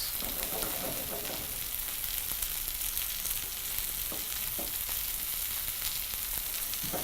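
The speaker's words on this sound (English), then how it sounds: "allow that just a few seconds for the little bit of liquid in the pot to completely evaporate" Liquid sizzles and bubbles off in a pot of boiled potatoes, a steady close crackling hiss with occasional stirring scrapes and no talking.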